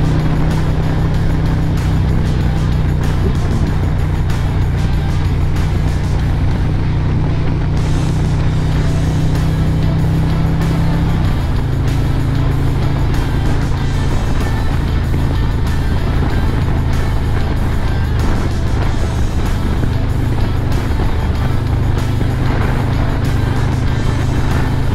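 A motorcycle riding along a North Texas road, its steady engine drone and rushing wind roar loud and close for the whole stretch, with a slight shift in engine tone midway.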